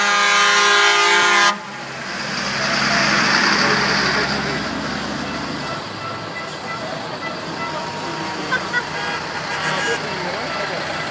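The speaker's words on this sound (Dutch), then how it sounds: "Die toeteren tenminste." Car horns honk loudly and steadily at the Dakar Rally 2012 in Lima, one sustained blast that cuts off after about a second and a half, followed by crowd noise, traffic and people talking.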